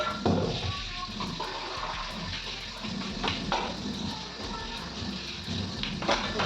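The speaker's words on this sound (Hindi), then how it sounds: "बाकी जो है इनको भी धुल करके रख देते हैं" Dishes rinsed under cold water from a storage tank on a freezing winter day; steady running water splashes and trickles with occasional clinks of utensils, fairly close, with no talking.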